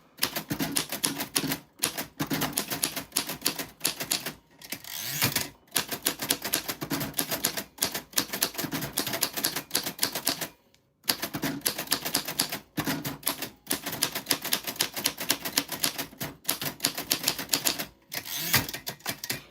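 A typewriter clacks away in quick bursts of keystrokes with brief pauses between runs, close and crisp, with no one talking.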